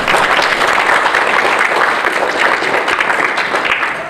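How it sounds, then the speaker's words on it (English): A large audience applauds probate court candidates at a local political gathering, dense and steady clapping filling the room loudly from start to finish with no break. "And you give them a round of applause if you want to."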